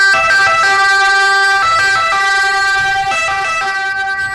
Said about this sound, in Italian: subito la squadra sale a bordo per partire a sirene spiegate